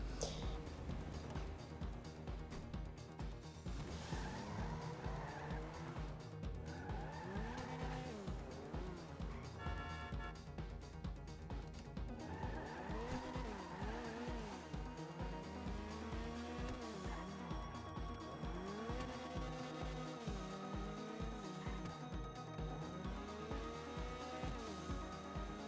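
A car driven in the GTA video game revs steadily throughout, its engine note rising and falling through gear changes, with tire noise and a constant in-game music or ambience bed underneath.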